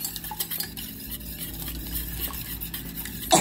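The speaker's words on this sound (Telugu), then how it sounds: "సో ఈ ఎగ్స్ని మనం బాగా ఇట్లా విస్క్ చేసుకుందాము." An egg is whisked in a bowl for brownie batter, giving a steady, close run of quick stirring and light clinking of the whisk against the bowl, continuous and fairly loud throughout, with no talking.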